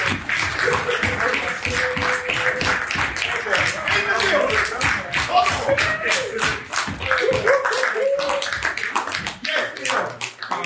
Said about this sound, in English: Leon, big round of applause.